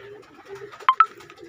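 Soft, low pigeon coos sound nearby, with a couple of brief sharp clicks partway through and no talking.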